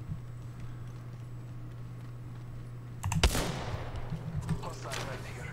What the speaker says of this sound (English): Oop, shots.